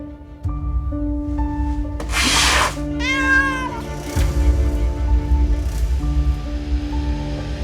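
A cat meows in a drama scene, its rising, harmonic cries standing out clearly over a sustained musical score, with a breathy rubbing noise just before the meow.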